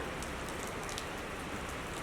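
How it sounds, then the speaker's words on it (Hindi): Heavy rain pours down steadily, a dense, close hiss of drops drumming on surfaces with no pauses and no voices. "बहुत बारिश हो रही है, बाप रे।"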